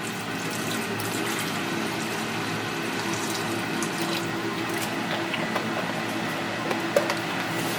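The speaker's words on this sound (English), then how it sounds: "I'm going to add some distilled water now." Distilled water, about half a liter, pours steadily into a jar during a gold refining process, a continuous close splashing rush with no breaks, and no voices.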